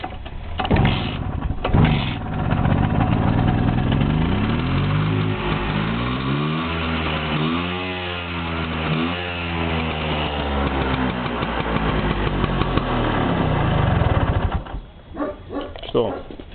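Vespa 50 faro tondo scooter with its original 50 cc engine, a four-speed gearbox and 10-inch wheels, running loud and close, its revs rising and falling in wavering sweeps for about fourteen seconds before cutting out, with some talk mixed in.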